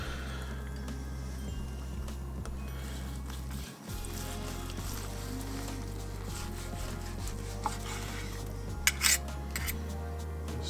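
A knife slices a honey mustard glazed ham on a board in soft, repeated scraping strokes with a few light clicks, heard over a low, steady background hum.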